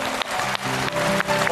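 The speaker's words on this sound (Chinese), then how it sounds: "此处有掌声" A studio audience at a talk show applauds in a steady, continuous wash of clapping, with faint voices over it.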